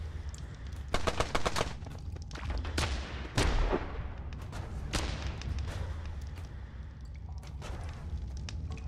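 Bouncy bullets fire in a dinosaur-catching video game as rapid bursts of sharp gunshots, with a louder blast near the middle, then scattered shots fading to a quieter backdrop.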